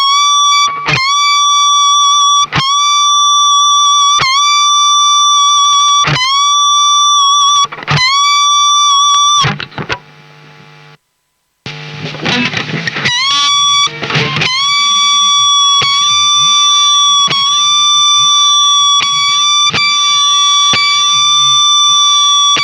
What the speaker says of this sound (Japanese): アナログの歪みは非常にスッキリして聞こえますが、デジタルの歪みではギターの音の裏の方でヒューみたいな、